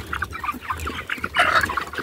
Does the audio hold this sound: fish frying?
no